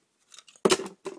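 A few quick snips of scissors cutting plastic panels for a demolition derby car build, close and crisp, with one louder cut followed by a short final snip.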